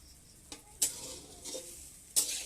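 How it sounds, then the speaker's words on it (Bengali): Eggs frying sizzle steadily under a few sharp scraping strokes of a utensil against a pan, close by, with no talking. "দেখো দেখো ডিম ভাজা দেখেছো"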